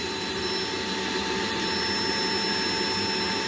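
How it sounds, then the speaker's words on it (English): A Rainbow SRX vacuum cleaner runs steadily, drawing the air out of a bag with a constant high whine and a broad rushing hiss, alone with no voices. "I'm going to turn the vacuum on. Suck all the air out of the bag."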